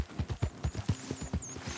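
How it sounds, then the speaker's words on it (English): A sturdy war horse's hooves clip-clop at a steady walking rhythm in Red Dead Redemption 2, close and moderately loud, with a faint high whistle drifting above the hoofbeats. "This is a good horse."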